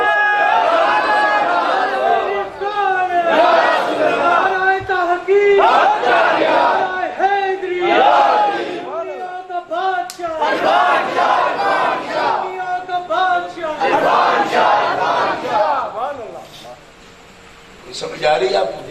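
Large crowd loudly chanting slogans in unison at a religious gathering in Mirpur, with repeated surging call-and-response shouts that rise and fall over nearly twenty seconds, briefly dipping before a final roar.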